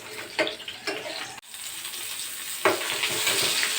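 Brinjals sautéing in oil in a pan, a continuous close sizzling hiss with intermittent louder bursts as the pieces are turned.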